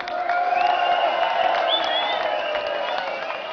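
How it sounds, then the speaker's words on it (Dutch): A festival crowd at the Hit Hard hardcore event cheers and applauds steadily throughout, with whistles and shouts rising over a dense, continuous wash of loud crowd noise. "Applaus, kom op."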